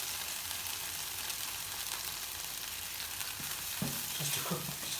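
Garlic fries in a tablespoon or so of oil in a pan, giving a steady close crackling sizzle with a few stirring scrapes near the end.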